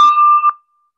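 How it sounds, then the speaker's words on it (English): A single bell rings out once at a community meeting, a clear, close metallic tone that fades to silence within about half a second. "Ring the bell."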